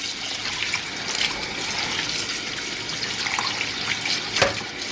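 Tap water runs steadily over beef in a kitchen sink for a few seconds, a continuous splashing hiss with small bumps and one sharp clink near the end, close with no talking.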